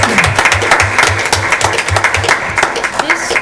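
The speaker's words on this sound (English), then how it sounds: "If we could give them a round of applause, I would appreciate it." Applause breaks out at a school board meeting, a room of people clapping steadily and loudly for about three seconds, with a low rhythmic thumping underneath and a few murmured voices mixed in.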